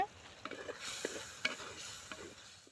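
Slit green chillies drop into prawn thokku in a pan and sizzle quietly, with a soft, uneven crackle and a few light stirring scrapes.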